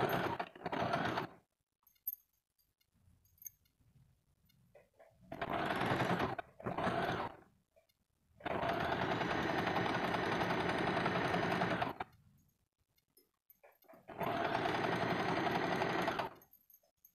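An electric sewing machine stitches a katori blouse in four separate bursts of fast, even whirring. The runs are short at first and then longer, with quiet gaps between them.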